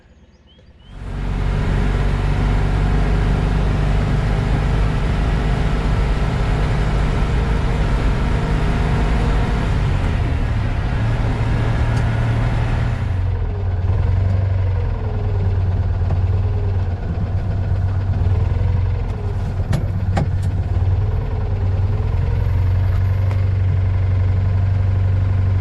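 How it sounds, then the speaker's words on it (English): A convoy of old cars, including two Harries and a work van, driving together: a loud, steady engine drone that starts abruptly and holds, with idling rumble and shifting engine tones close by. "Here is our convoy going through CTs this morning."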